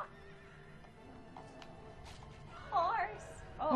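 A horse neighs twice in the Shadow of the Colossus video game, the whinnies rising out of a busy background of game sound effects and faint hoof clatter near the end of the stretch.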